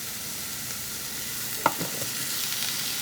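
Chicken sautés with garlic and onion in a pan, a steady close sizzle with a brief clatter of stirring partway through.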